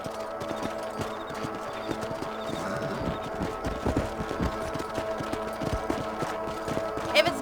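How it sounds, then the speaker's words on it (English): Horse hooves clip-clop in a steady rhythmic gait during a ride in Red Dead Redemption, close and moderately loud over faint background sounds. "Let's mount up and patrol the rest of the property."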